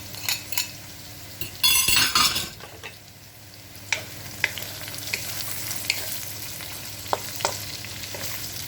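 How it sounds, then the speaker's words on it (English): Onion, garlic and ginger hit the hot pan with tender green beans, bursting into loud sizzling and frying, then settling to a steady crackle with scattered utensil clinks and scrapes of stirring. "So I'm going to add the onion in, the garlic, and the ginger."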